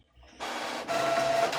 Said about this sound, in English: We don't pay a good subscription fee to hear your 1910 printer running.